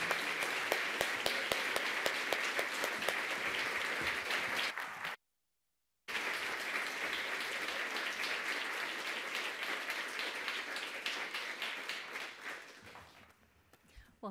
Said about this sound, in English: Please join me in welcoming Masha Gessen and Suzi Weissman to the LA Public Library